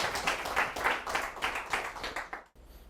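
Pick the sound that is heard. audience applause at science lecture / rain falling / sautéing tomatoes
audience applause at science lecture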